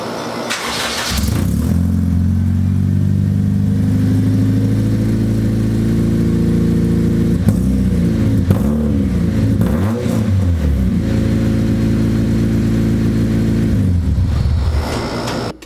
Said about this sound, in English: now I'm going to give it a startup with just the resonator